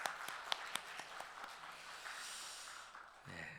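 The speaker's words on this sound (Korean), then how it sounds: "함께 박수 쳐주겠습니다." A church congregation at an early-morning prayer service applauds its church school students, with a brief burst of faint, scattered claps that quickly fades into soft room noise.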